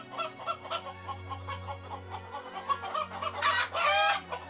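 Chickens cluck in a repeated, uneven rhythm at close range on a farm, then a rooster crows loudly near the end over a low steady hum.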